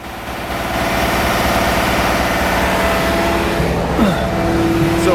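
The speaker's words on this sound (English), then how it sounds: "as you can tell from the loud pupper behind me here. This guy's been going since 6:30." A loud shotcrete pump engine runs steadily and close by on a job site, its deep rumble rising after a quieter start and holding constant, with a brief mechanical squeal near the end.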